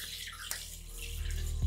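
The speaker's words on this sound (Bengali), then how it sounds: "প্রথমে মুখটাকে আমি একটু ভিজিয়ে নিচ্ছি।" Water splashes at a bathroom sink as hands wet a face, a short wet rush with a small slap midway and a louder splash toward the end, close and alone.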